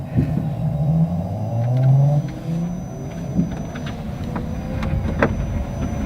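A fast sports car, capable of 0 to 100 in under four seconds, pulls away from a stop with a low engine rumble that rises and swells as it accelerates, close and steady with no talking.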